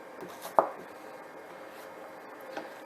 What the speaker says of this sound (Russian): Лук нарезаю такими не крупно, не мелко, кубиками.